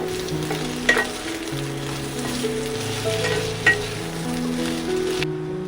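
Jackfruit seeds sizzle steadily in hot oil in a pan, a continuous close frying hiss with a couple of faint clinks of a utensil and no voices.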